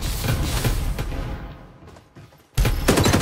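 Gunfire in the video game Farlight 84, a loud sustained burst of rapid automatic shots, a brief lull with a faint mechanical click, then another heavy burst resuming abruptly.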